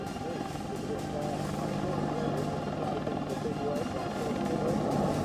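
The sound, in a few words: military attack helicopter flying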